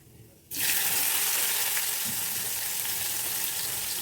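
Fennel seeds and onion hit hot oil for a soya chunk veg keema gravy, bursting into a loud, close sizzle that starts abruptly and holds steady and hissing.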